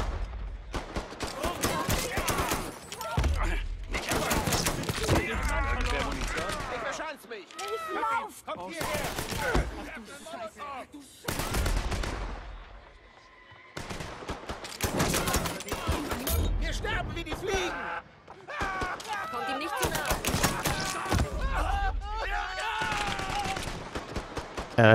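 Bursts of gunfire in Mafia III, rapid volleys and single loud shots arriving in clusters separated by short pauses, close and forceful, with someone talking between and over the shooting.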